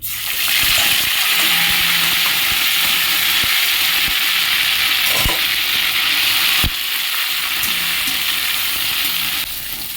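Whole cumin, dried red chilli, bay leaf and a garlic-ginger-onion paste fry in mustard oil in a kadai, giving a loud, steady sizzle with scattered spatters and stirring clicks for about ten seconds, with no voices.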